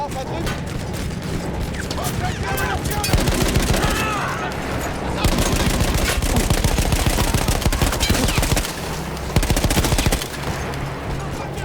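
A World War I machine gun fires in Battlefield 1, rattling out long, loud, rapid bursts with brief pauses, with battlefield noise and faint voices in the mix.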